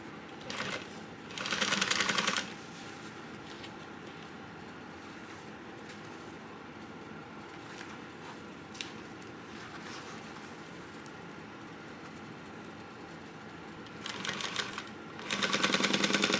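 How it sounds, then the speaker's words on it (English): A sewing machine stitches a backpack pocket closed in two short bursts, one at the start and one at the end, with a quiet steady hum between them. "we can stitch this closed"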